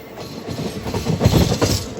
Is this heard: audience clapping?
no